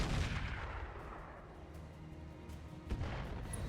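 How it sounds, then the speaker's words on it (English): Artillery shells strike in the RogueTech BattleTech video game, with a heavy boom at the start and another sharp impact near the end over a low rumbling bed. "Reasonable artillery hits there."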